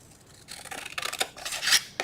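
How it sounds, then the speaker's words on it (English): Big scissors slice into a cardboard box, giving a series of close, crisp rasping cuts in quick succession, alone without voices. "I'm gonna get this big scissors for this one, and we're gonna cut out the 4"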